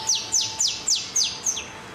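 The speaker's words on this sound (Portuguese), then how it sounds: "O Canário da Terra é um passarinho que canta bonito, Adilson, mas bonito." A saffron finch (canário-da-terra) sings a run of six quick, bright chirps, each a sharp downward sweep, evenly spaced and fairly close, over a faint steady hum at Road 66 restaurant.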